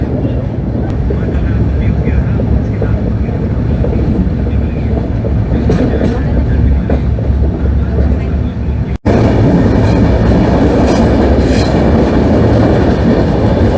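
An MAS-LTT SF Express train running through the hills near Lonavala gathers speed with a loud, continuous rumble and rattle of the carriages. A sharp break comes partway through, and after it the noise grows brighter and busier.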